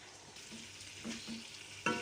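Red chili, turmeric, garam masala, coriander powder and nigella seeds fry with goat head meat in a pan, giving a soft, low sizzle with light stirring scrapes and a sharper clank near the end.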